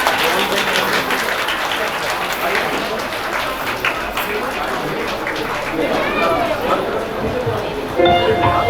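Wedding guests at a traditional ceremony clap together in a dense, continuous patter of applause that surges near the end, with scattered voices chattering through it.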